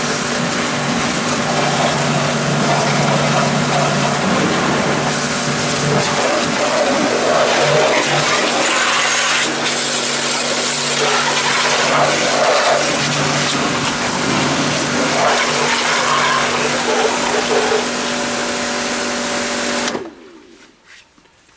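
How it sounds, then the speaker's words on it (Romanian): A Ruris PRO Power Jet W pressure washer runs and sprays a car, giving a loud, steady motor whine with a hissing water jet and slight fluctuations, up close, continuous for about twenty seconds before cutting off abruptly. "foarte puternic jetul ăsta."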